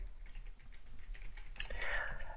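Keys clatter on a computer keyboard as someone types a MySQL query, a quick run of soft, close clicks ending in a brief, brighter burst of taps.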